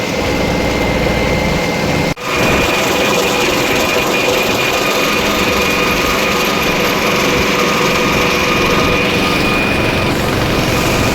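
A tractor engine drones steadily and loudly throughout with a brief dip early on, rumbling continuously without pause.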